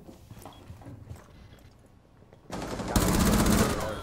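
Rapid gunfire in a tactical shooter game, rounds punched through a wall, bursting in loudly after a quieter stretch of footsteps and background game noise, then building into a dense, sustained volley to the end.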